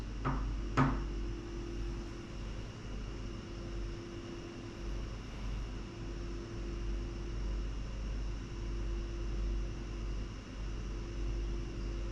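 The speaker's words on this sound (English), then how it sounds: "where did that knock come from?" A couple of sharp knocks sound early, then a quiet room with a steady low hum.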